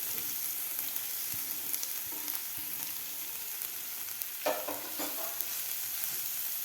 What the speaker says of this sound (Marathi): ब्रोकोलीसुद्धा आपल्या तेलामध्ये 1 मिनिटभर व्यवस्थित परतून घ्यायचे आहे